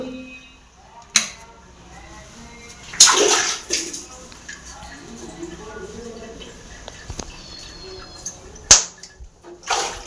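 A child splashing and sloshing water in a bath, with sharp bursts of splashes between quieter stretches, nearby, with voices talking over it.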